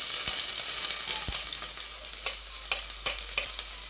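Garlic and ginger fry in hot vegetable oil with a steady, close sizzle, punctuated by sharp scraping taps as the pan is stirred.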